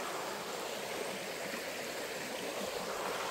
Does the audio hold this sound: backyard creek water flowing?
yes